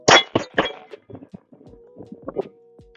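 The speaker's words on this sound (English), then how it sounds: "Oh yeah, I forgot I was doing a reload." A handgun fitted with a red dot sight is reloaded: three loud, sharp metallic clacks come first, then a run of softer clicks and knocks from handling the gun, up close with no talk.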